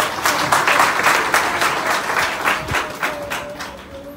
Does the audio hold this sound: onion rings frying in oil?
no